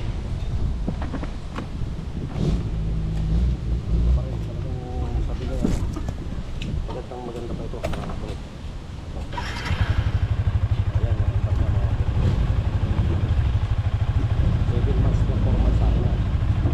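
A Yamaha Sniper 155 motorcycle is heard up close. Someone talks over wind noise at first, then the engine fires partway through and settles into a steady, loud, pulsing idle to the end.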